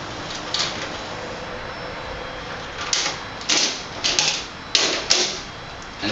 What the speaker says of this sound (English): So, well, I'm not recording, so I'll stop the tape. I'll eject it to show that.